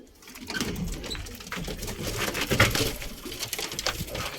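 Pigeons just released from their loft give off close, scratchy rustling and fluttering with irregular soft bursts, rising and falling in loudness.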